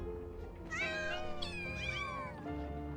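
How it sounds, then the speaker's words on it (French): Kittens in a village scene of Final Fantasy VII Rebirth let out several high, wavering meows in quick succession, close and clear over a quiet low ambient hum. "Ah, il y a vachement des chatons."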